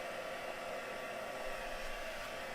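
A hair dryer blows over inked paper, giving a steady, even whoosh that holds for the whole clip.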